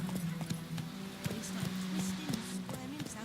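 Roach, the horse in The Witcher 3, gallops with rapid rhythmic hoofbeats thudding close and clear throughout, along with game background sound.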